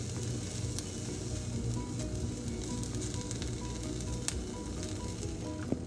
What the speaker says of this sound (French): J'essaie de remuer pour faciliter la dilution du cacao surtout